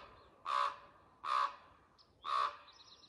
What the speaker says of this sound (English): That's a raven. They have a nest behind me.